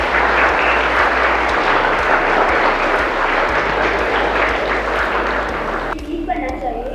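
A student workshop audience claps in loud, sustained applause lasting several seconds, a dense wash of many hands that thins toward the end, with some voices mixed in.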